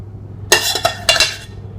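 Mushrooms in cream sauce spooned into small baking pots, giving a few sharp ceramic and metal clinks and scrapes in two close bursts against a quiet kitchen hum.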